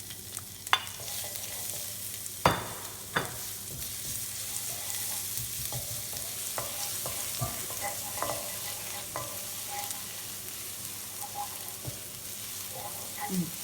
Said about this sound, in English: I'm adding coconut oil. Just adding our garlic and our ginger.